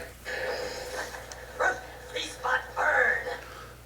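Hot Dog, a fiery dog character in the video game Skylanders Giants, gives several short barks and yips in bursts over game music and effects.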